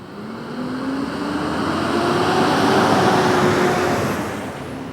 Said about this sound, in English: Trucks are loud.